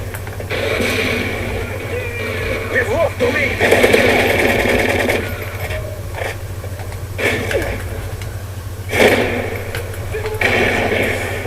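Suppressed AK-47 fire in Modern Warfare 3 comes in short rapid bursts of muffled thudding shots, repeating several times over a steady low game hum, with someone talking over much of it.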